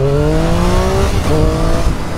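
Triumph 660 three-cylinder A2 motorcycle accelerating hard in first gear, a loud close engine note with rising harmonics that climb steadily, break briefly at a shift in revs, then climb again, with no talking.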